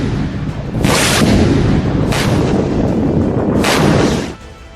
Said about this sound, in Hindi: हूथी फाइटर्स ने इजराइल को बर्बाद करने के लिए मिसाइलों की अंधाधुंध बौछार शुरू कर दी है